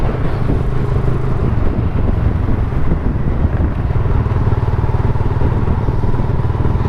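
Benelli 302S motorcycle on its stock exhaust, a close, continuous engine drone with a throaty rumble and some wind noise, steady throughout with no talk.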